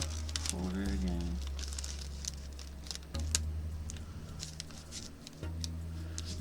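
Thin Bible pages being folded by hand to shape a Christmas tree, giving soft continuous crinkling and papery rustling with scattered light taps, close and fairly quiet, with a brief voice at the start.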